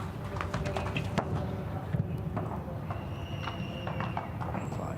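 A show jumper's hooves thud in a rhythmic canter across an outdoor arena in a 1.50 m Grand Prix jump-off, moderately close, while a commentator talks over them.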